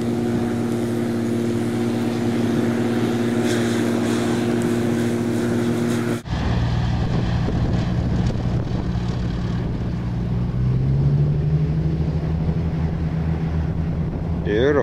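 A light aircraft comes in to land at French Valley airport, its engine a loud, steady droning hum with strong tonal harmonics whose pitch shifts as the power changes, and wind rushing across the microphone throughout.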